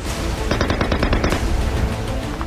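Rattle of automatic gunfire during fighting in Afghanistan, a rapid string of loud shots over a dense, roaring background of battle noise.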